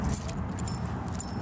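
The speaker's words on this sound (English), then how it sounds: "Trying to get my keys here." Car keys jangle up close in a steady metallic clatter for about a second and a half, heard on a weekday morning drive to work near a school parking lot.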